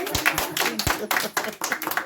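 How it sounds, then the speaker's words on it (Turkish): A small group of travellers clapping on a trip to Antalya, quick uneven claps over about two seconds, fairly close and moderately loud with faint voices among them. "Alkış alalım lütfen"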